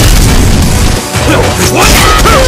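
A grenade explodes in a video game with a loud, sustained boom and crashing rumble, dense and close, with a brief dip partway through; short tonal game effects follow near the end.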